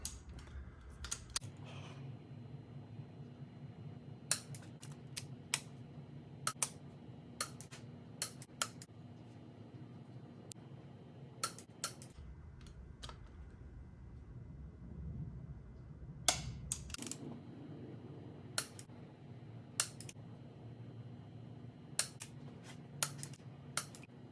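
Torque wrench on an E60 M5 cylinder head install gives sharp, isolated clicks at irregular intervals as cylinder head bolts are tightened, close and crisp over a low steady background hum.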